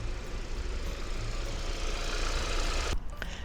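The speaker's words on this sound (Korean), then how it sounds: "엔진 소리 아주 좋고요" A Hyundai Avante AD engine idles close by with a steady, rumbling drone that cuts off briefly near the end.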